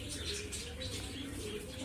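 Pigeons cooing in a loft at a pigeon sale, soft low continuous coos and faint bird calls at a distance, with quiet murmuring in the background.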